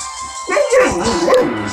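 A pet dog barks and whimpers in short yips close by, several quick calls over about a second, loud over a quiet room.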